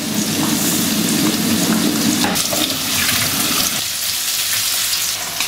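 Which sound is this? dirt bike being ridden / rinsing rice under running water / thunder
rinsing rice under running water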